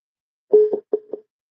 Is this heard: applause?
no